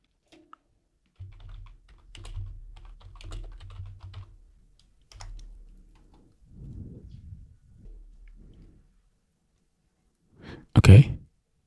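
Bursts of typing on a computer keyboard, soft clustered keystrokes in short runs with pauses, followed by a single louder thump near the end.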